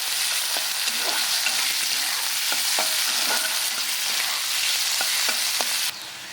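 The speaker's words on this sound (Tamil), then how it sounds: "வெங்காயம் பச்சை மிளகாய் நல்லா வதங்கிட்டு" Onions and green chillies sauté in a pan for spicy potato fry, a steady close sizzle of frying with scattered soft clicks and scrapes of stirring throughout; the hiss shifts slightly near the end.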